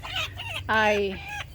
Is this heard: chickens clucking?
yes